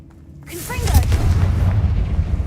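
A Confringo fire spell cast in Hogwarts Legacy bursts into a loud, booming blast with a brief whooshing onset, then settles into a sustained low rumble that carries on to the end.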